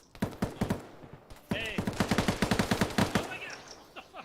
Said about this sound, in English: Did you just get shot at?